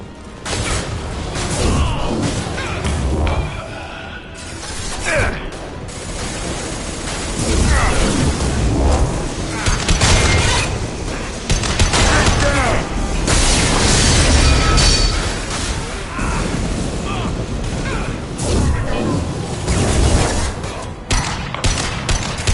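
Explosions amid combat in the video game Mass Effect 2: loud, dense rumbling blasts and rattling gunfire that keep going without a pause, with booms rising out of the din.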